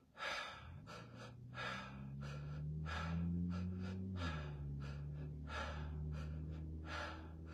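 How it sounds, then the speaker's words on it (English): Someone performs a shamanic breathing exercise, taking deep belly and chest breaths in a rhythmic series of close, forceful inhales and exhales, with a faint low tone underneath. "it'll be the exact same breath. It's a shamanic breath."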